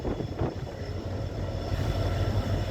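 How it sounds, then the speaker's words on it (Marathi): A continuous deep rumble and low drone of a train crossing the Pamban sea bridge at Rameswaram, steady and fairly loud, with no voices. "आपण पाहत आहात या ब्रिजवरून ट्रेन क्रॉसिंग करत आहे."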